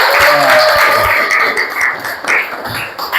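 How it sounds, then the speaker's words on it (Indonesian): Classroom audience applauding, a loud burst of clapping that swells and fades unevenly over a few seconds, close and dense. "Tepuk tangan dong, apresiasi kembali."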